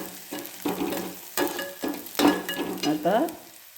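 Onion and curry leaves frying in a pan for a dried prawn dish, with bursts of sizzling and stirring that rise and fall in several loud, close pulses.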